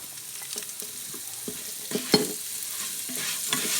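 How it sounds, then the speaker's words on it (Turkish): Mushroom stems sautéing in a pot for vermicelli pilaf: a steady soft sizzle with scattered scraping clinks of a spoon stirring, close and moderately loud. "Onlarla birlikte de soteliyorum mantarlı saplarını."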